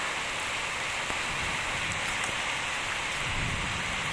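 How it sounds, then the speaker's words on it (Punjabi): Heavy rain pours steadily and loudly in a dense, unbroken hiss with no voices, the downpour close and continuous throughout. "ਮੀਂਹ ਬਹੁਤ ਜ਼ੋਰ ਦੀ ਆ ਗਿਆ"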